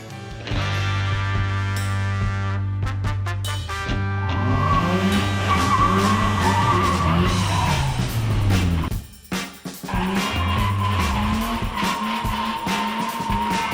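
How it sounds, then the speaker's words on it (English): Race cars at the Race of Champions run side by side, engines roaring and tires squealing as they switch lanes and drag race to the finish, loud and sustained with a brief dip midway, no talking. "They switch lanes in the middle, and then it's a drag race to the finish line."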